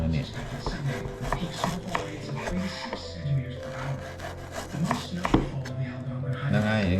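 A knife slices thinly through frozen beef on a board in rhythmic rasping and chopping strokes, close and moderately loud, with someone talking over it.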